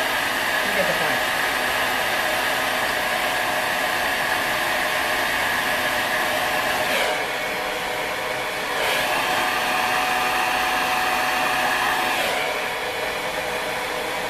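A handheld blow dryer drying hair runs as a loud, steady, close-up airy roar for the whole stretch, with a few brief dips as it is moved around the head.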